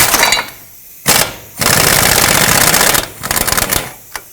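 Impact tool on a 19mm socket removing a tight ball joint nut on a 2009-2015 Toyota Prius, rattling in loud rapid bursts separated by short pauses.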